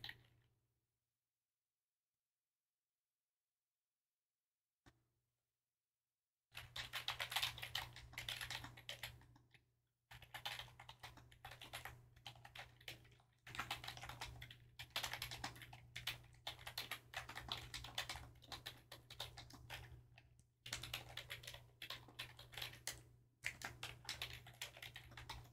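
Steady bursts of computer-keyboard typing, close and distinct, in runs separated by short pauses, following a few seconds of near silence; no one speaks.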